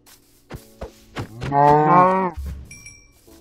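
A single loud, drawn-out Minecraft cow moo follows a few short knocks and clicks, then a brief low thud and a faint high electronic tone.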